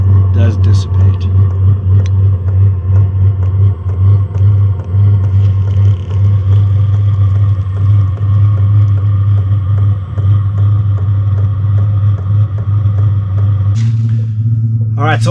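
A portable diesel heater set up for winter camping runs with a loud, steady low rumble and throb from its exhaust, continuous and close throughout, with a change in tone near the end.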